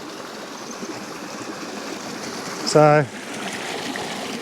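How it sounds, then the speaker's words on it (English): Water flowing in a bush stream at a New South Wales camping spot, a steady broadband wash heard up close throughout, briefly covered by a short burst of a voice near the end. "all you got to do is listen for the water"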